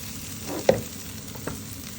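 Green chilli pieces drop into onions browning in hot oil in a pan for a taki fish bharta. A steady close sizzle runs throughout, with two sharp bursts of crackle as the pieces go in.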